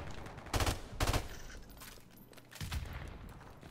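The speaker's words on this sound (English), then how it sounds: "Oh, that is an airstrike." Airstrike explosions in a first-person shooter video game, two close loud blasts in quick succession followed by a third softer impact, with a low rumbling background between them.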